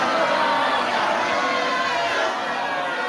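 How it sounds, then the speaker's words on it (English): A wrestling crowd reacts to the head referee with a loud, continuous roar of mixed shouting and chatter, steady and close throughout, easing slightly near the end. "And the crowd goes mild for you."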